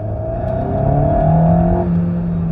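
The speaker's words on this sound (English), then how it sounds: "that's a fruity exhaust tone. I like that. It's got a growl to it" An Alpine A110 S sports car engine revs up with a deep, rumbling exhaust growl, rising in pitch as it accelerates, steady and fairly close with no talking.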